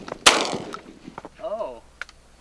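A single sharp, loud shotgun-style blast during a pigeon hunting contest, with a smaller crack later, and people talking and exclaiming around it.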